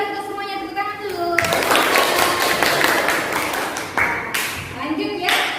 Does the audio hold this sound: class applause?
yes